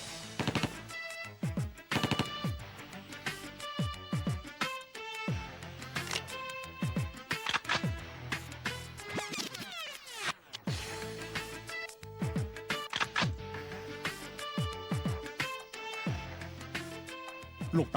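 Submachine gun in rapid automatic fire, bursts of sharp reports with metallic clatter running almost continuously and loud throughout, with no talk.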